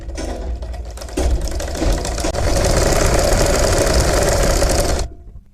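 A sewing machine stitches an umbrella gher frock, running as a loud, continuous mechanical whir with a fast rattling pulse for about five seconds, then stopping abruptly.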